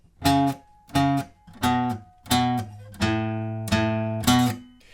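An electric guitar plays the chorus riff of a song in short, choppy staccato chords, each struck and quickly cut off in a steady rhythm, about seven hits, loud and alone.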